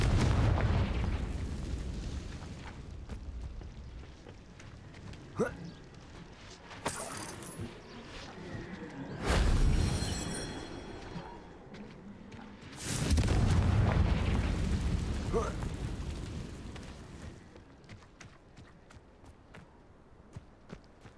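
Fiery Confringo spell blasts in the game Hogwarts Legacy, a few booming explosions with roaring bursts and crackling tails, separated by quieter stretches of footsteps and game ambience.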